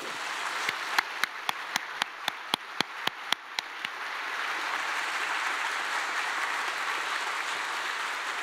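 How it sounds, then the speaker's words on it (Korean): Audience applause at a Methodist church pastor installation service in Korea, starting with a few distinct, sharp claps that swell into a steady, moderately loud wash of clapping that carries on evenly. "한번 뜨거운 박수 한번 보내주시기 바랍니다"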